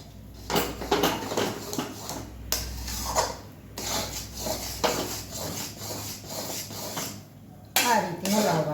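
A spoon scrapes and stirs a Mesoob mixture with ghee in a pan over low heat, steady rubbing and scraping strokes repeating across the clip with occasional metallic clinks, fairly close and moderately quiet.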